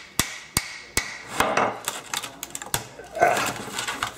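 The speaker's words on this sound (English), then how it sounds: "Now, let's try the hammer." A hammer strikes a broken laptop in a series of sharp, close knocks, several evenly spaced at first and then quicker, lighter taps and rattles.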